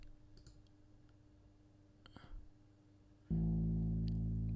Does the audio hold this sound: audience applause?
no